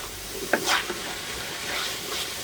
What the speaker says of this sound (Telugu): చూసారండి, ఉల్లిపాయలు ఈ విధంగా కలర్ వచ్చే వరకు ఫ్రై అవ్వాలన్నమాట.